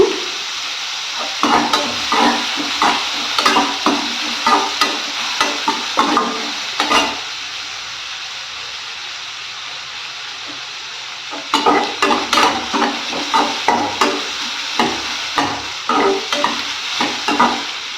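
Onions sauté in oil in a pan for chicken Chintamani, a steady sizzle with repeated scraping stirs. The stirring pauses for several seconds while the frying continues, then the stirring resumes.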